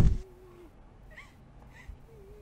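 A cat in a horror game lets out a couple of faint, drawn-out meows in a quiet space, following a brief loud thump at the start.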